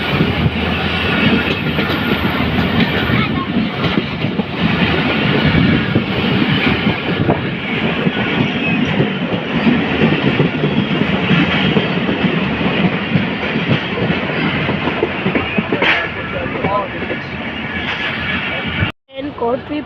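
The Shah Latif Express passenger train rolls along the rails near Kotri, a loud continuous rumble and rattle heard from on board, with someone talking over it and a sudden brief dropout near the end.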